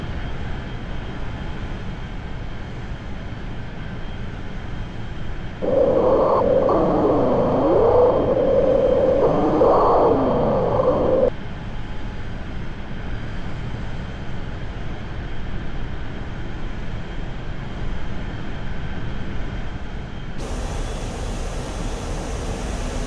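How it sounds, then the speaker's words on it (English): An Su-25 Frogfoot jet roars in a DCS flight simulator game, with a steady engine drone that swells louder for a few seconds and then settles back to a constant hum, with no voices. "We're in a SU-25. Let's take off and let's attack some insurgents."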